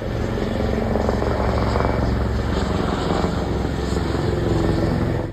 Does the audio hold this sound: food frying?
no